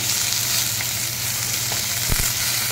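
Egg tarka sizzling steadily in a frying pan with salt and spice powder, a dense continuous fry with a couple of brief stirring clatters near the end; no talking.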